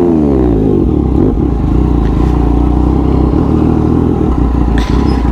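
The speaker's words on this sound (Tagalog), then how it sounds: "Ayan na yung tunog ng ating Belen pipe." A 2020 Yamaha MT-09 motorcycle fitted with an aftermarket exhaust pipe roars loudly and close, revving and accelerating with a deep throaty rumble and rattly mechanical clatter throughout.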